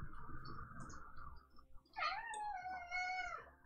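A house cat making noise: a low, drawn-out yowl, a short pause, then a louder wavering meow that rises and falls, close and alone with no talking.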